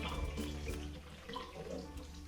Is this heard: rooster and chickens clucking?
no